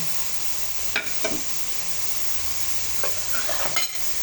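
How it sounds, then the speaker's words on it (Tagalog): Chicken adobo sizzling steadily in a pan as vinegar is poured in, a soft continuous fry with a few brief scraping stirs standing out near and faint. "And then I put the vinegar. 5 tablespoons of vinegar"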